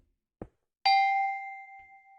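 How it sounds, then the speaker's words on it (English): A door-opening chime in a Minecraft dungeon mod gives a single bright, ringing tone that slowly fades out, preceded by a brief soft knock. It is clean and alone, with no talk. "So that's the door opening sound."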